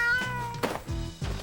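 A cat meowing in the video game Z.O.E. Dolores, I, a few short, clear, close mews in quick succession, heard alone without talk.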